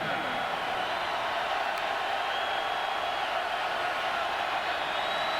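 A football stadium crowd at a Tennessee vs Kentucky game roars steadily, a broad, continuous wall of cheering that holds at an even level throughout without letting up.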